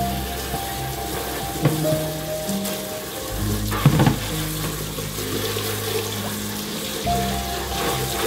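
Running tap water rinses a wicker thrift store basket in a steady, close hiss and patter, with occasional clunks of the basket being handled and a faint hum beneath.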